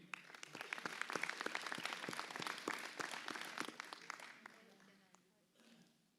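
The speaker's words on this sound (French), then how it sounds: "On peut les applaudir." A crowd at a town's New Year wishes ceremony applauds with dense, lively clapping that fades out near the end, and a voice is heard briefly underneath.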